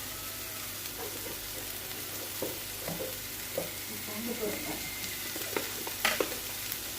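Spring roll filling with spices being stirred and cooked in a pan, a soft steady sizzle under scattered utensil scrapes and light knocks, fairly quiet and without speech.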